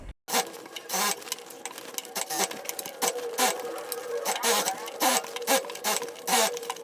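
Sewing machine running steadily while topstitching a skirt waistband, a continuous close whirring hum with a rapid needle rhythm, starting after a brief silence.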